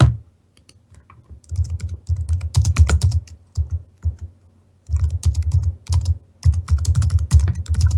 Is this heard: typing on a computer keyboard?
yes